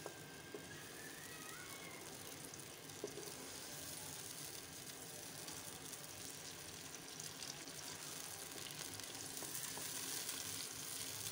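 Tomatoes frying in half a cup of hot oil on a stove for desi murgh karahi, a steady dense sizzle running unbroken and close throughout, growing slightly louder toward the end, with no talk.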